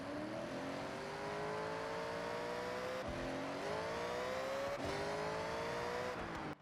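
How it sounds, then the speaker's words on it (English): A 1500 bhp rear-wheel-drive muscle car in a racing game spinning its wheels: a loud engine howl rising in pitch in repeated surges, each cut by a brief drop as gears shift. "This is going to wheel spin like crazy."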